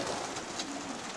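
A loft of selected racing pigeons gives off a low, steady cooing murmur from many birds at close range, with no voices.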